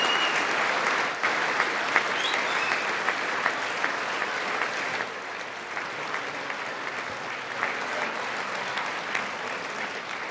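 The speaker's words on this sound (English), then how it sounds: "Look, a few of them are clapping over here." Applause in a large chamber during the State of the Union address, sustained dense clapping heard at a distance and steady throughout, with a few sharper claps standing out.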